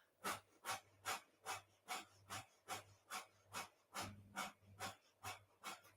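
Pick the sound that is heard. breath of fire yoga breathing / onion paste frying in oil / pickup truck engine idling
breath of fire yoga breathing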